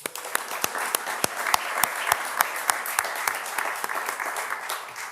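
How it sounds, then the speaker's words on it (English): Lecture audience applause, a steady roomful of clapping with distinct sharp nearby claps standing out in an irregular rhythm, continuing evenly throughout. "So a round of applause also for Dr. Moran."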